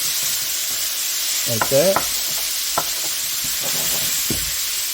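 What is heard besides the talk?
ground beef being broken up and stirred while frying in pan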